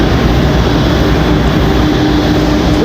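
A Southwest Boeing 737-800 arriving from Denver at Raleigh-Durham airport, a loud, continuous broadband jet roar that stays steady throughout.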